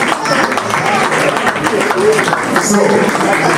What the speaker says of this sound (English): So please join me to give a hand of applause to our brother Prince.